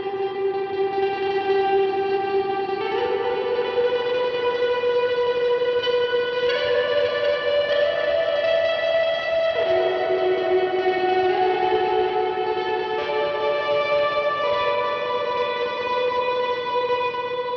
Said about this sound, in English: this is the Plate Plus patch that you heard with the tremolo picking.